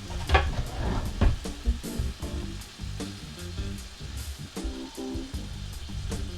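Thick-cut bacon cooking in a pan, a continuous close sizzle and crackle with scattered pops and light clatter, steady throughout.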